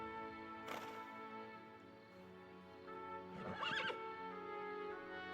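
A horse whinnies in two quiet, shaky bursts a few seconds apart, close by and faint against a low, steady background hum.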